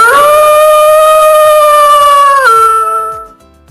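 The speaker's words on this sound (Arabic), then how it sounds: "ذئب." A wolf gives one long, loud howl, a steady sustained wail that drops in pitch near the end and then fades, with no talking over it.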